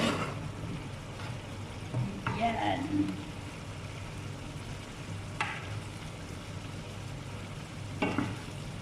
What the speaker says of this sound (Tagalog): Ilalagay na natin yung cauliflower.